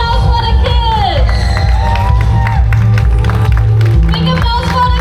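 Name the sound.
crowd applause and cheering for the kids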